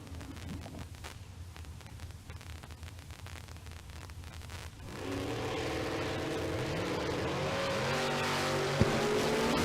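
Drag racing cars, a cranberry S10 pickup and a white Camaro, roar into a loud, sustained run at a drag strip, with engine tones rising through gears and a faint tire squeal.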